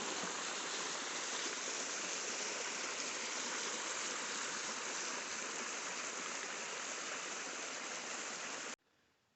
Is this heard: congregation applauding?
no